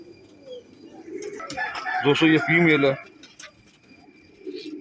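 Perwazi pigeons cooing in soft repeated calls, with a louder burst in the middle, under someone speaking nearby.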